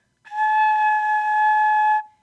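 A single sustained flute note played with the head joint rolled in, held steady for nearly two seconds with a bright, airy tone and no talking.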